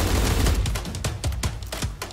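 Gunfire in the top-down browser game surviv.io, a rapid burst of sharp shots fired in quick succession over a couple of seconds, loud and close, alongside a steady background layer.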